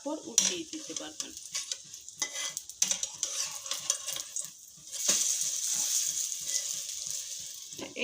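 An egg and red lentil fritter frying in a pan, soft sizzling broken by repeated sharp clinks and scrapes of a utensil against the pan, then a steadier hiss, close by with no talking.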